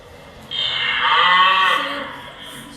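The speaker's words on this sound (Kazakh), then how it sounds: "Сиыр, я? Сиырдың дауысы." A cow gives a single long, low moo that swells after a moment of quiet and fades out over about two seconds, close and clear with no talking.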